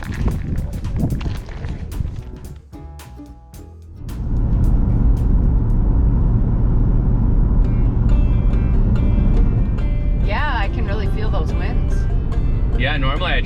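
An RV cruising on a highway in strong, gusty wind gives a steady, loud road and wind roar that swells after a few seconds and stays constant, with someone speaking over it.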